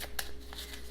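Tarot cards handled during a reading, with a few short papery snaps and slides of cards over steady background hum.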